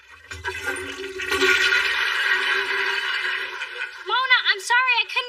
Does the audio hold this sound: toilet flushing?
yes